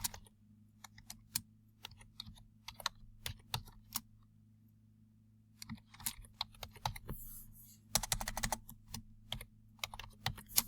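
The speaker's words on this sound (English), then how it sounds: "And I'm going to type" Rapid bursts of keystrokes on a computer keyboard, close and fairly quiet, with short pauses between runs of typing and a faster flurry near the end over a low steady hum; no talking.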